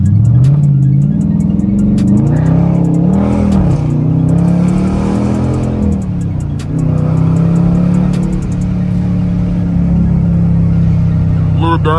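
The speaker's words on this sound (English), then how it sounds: "Y'all know I love me a good downshift." A widebody Dodge Challenger R/T with a 5.7L engine, driven in traffic, gives a loud, close, rumbling drone that rises and falls as it revs and downshifts; someone talks over it.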